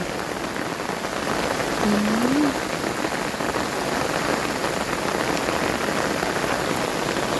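Heavy storm rain pours down in a dense, even hiss of drops striking surfaces. The roar is loud and steady throughout, with no voices.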